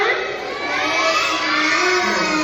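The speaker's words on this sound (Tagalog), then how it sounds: "Sigaw ka ng amen kung ready na." A crowd of children shouts together during a Sunday school worship service at a church in the Philippines, a loud, sustained collective cry filling the room.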